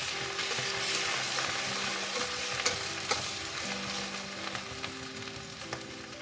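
Cumin seeds and chopped ginger frying in a pan while being stirred, a constant close sizzle and crackle with soft scraping of the spoon and occasional light knocks.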